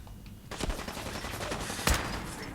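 Gunfire in the game Fallout 4 comes as a rapid burst of sharp shots, a couple of heavier cracks standing out, loud and close in a short sequence without speech.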